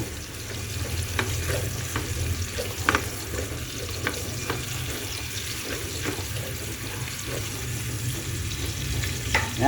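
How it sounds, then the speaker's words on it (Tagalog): Steady sizzling of onion and garlic sautéing in a pan, with occasional stirring clinks and scrapes over a continuous hiss. "nagisa na tayo ng ating sibuyas at bawang"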